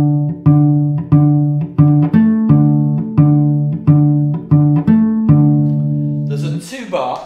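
Cello playing a beginner riff on open strings, a repeating pattern of bowed notes, about a dozen evenly spaced strokes alternating between two low pitches, close and clear, ending in a brief burst of noise.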